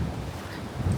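Coastal wind gusts at Magpupungko, Siargao, buffet the microphone as a constant rough, low roar, fairly faint and unbroken, with no voices.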